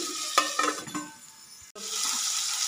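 Tomato pieces tipped into a hot pan with brinjal and potato, giving a burst of stirring and scraping followed by a steady, close sizzle of frying, with no talking.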